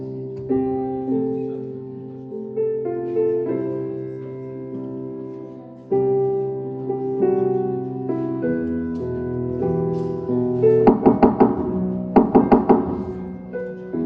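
Two quick sets of sharp knocks on a door near the end, close and distinct, cutting through gentle tonal background music that plays throughout.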